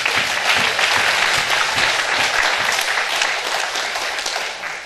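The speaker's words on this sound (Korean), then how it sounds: "하나님께 영광의 박수 드려요" A church congregation at an evening healing revival service breaks into sustained applause, dense and even clapping from a large crowd that holds steady before slowly tapering.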